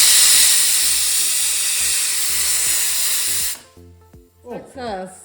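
Pressure cooker cooking chicken for kuzhimanthi lets out a loud, steady hiss of steam for several seconds, then cuts off sharply and voices follow.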